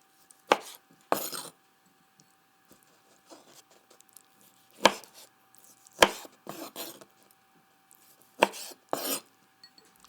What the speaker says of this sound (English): Then cut up the marinated artichokes. All we have to do here is quarter them.